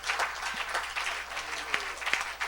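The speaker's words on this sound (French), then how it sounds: "Oh, acclame comme si tu le pensais réellement." A congregation at an evangelical church service applauds. The claps are dense and continuous, with a few sharper individual claps standing out near the end, and there is no talk over them.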